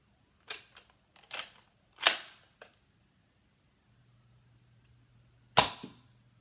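A Nerf blaster fires foam darts at a dartboard: a quick series of sharp, close snapping clicks and pops, then a pause and one louder crisp shot near the end, with no talking.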